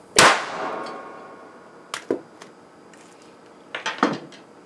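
Capacitor bank discharging through a piece of carbon foam lying across the discharge leads gives one sharp, loud bang, followed by a few smaller clattering knocks as the piece rolls off and falls onto the floor, with no talk.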